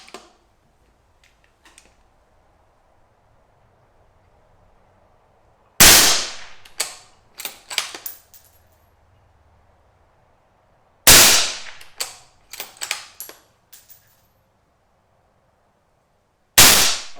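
Three loud rifle shots through an A-TEC Integral moderator ring out several seconds apart, each a sharp crack followed by quick metallic clicks and clanks of the bolt being cycled, with near silence in between.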